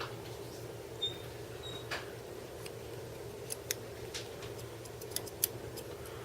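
Small metallic clicks and snips from a pair of folding scissors, a handful of sharp ticks scattered over a low background hum.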